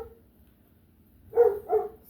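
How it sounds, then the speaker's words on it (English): A dog barks twice in quick succession at moderate distance, short sharp woofs following a near-silent stretch in a quiet setting. "Dog barking at me."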